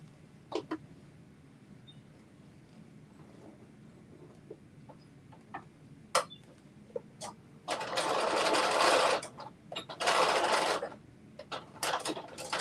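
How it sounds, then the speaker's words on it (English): A sewing machine runs two short bursts of back stitching on a sewing-along garment, each lasting about a second or two, set among quiet clicks and handling noises. "Now I'm going to do a little back stitch. And let me just do a little stitch right here."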